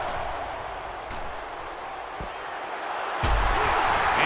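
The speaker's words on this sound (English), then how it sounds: "So this crowd is making their presence felt" Stadium crowd noise in a college football video game, a steady roaring wash of many voices that swells louder near the end, with a few thuds and claps cutting through.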